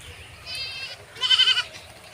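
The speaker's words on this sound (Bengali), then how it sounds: "ওই দেখো আমাদের ছাগলগুলো খেয়ে আসছে" Goats bleat twice at close range on a tea-garden farm. A shorter call comes first and a louder, wavering bleat follows after a brief pause, with no talk.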